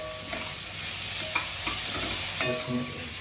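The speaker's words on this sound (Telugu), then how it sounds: "ఉల్లిపాయ వేగేటప్పుడు ఉప్పు కొంచెం వేస్తే తొందరగా మనకి ఉల్లిపాయ మగ్గిపోతుంది" Sliced onions fry with a pinch of salt in a pan, a soft continuous sizzle broken by a few sharp spatula taps and scrapes as they are stirred nearby. No one talks.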